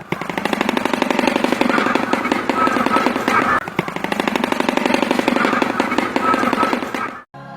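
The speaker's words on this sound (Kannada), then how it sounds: "ಇದು ಈ ಹಕ್ಕಿಯ ಕೊಕ್ಕುಗಳಿಂದ ಮಾಡಿದ ಶಬ್ದ." A large wading bird that hunts fish, frogs, snakes and baby crocodiles clatters its beak in rapid machine-gun bursts, a dense, loud, continuous rattle that runs for several seconds before cutting off abruptly.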